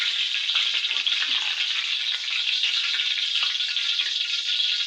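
Curry leaves fry in hot oil with a continuous bright hissing sizzle, steady and close throughout, with no voices.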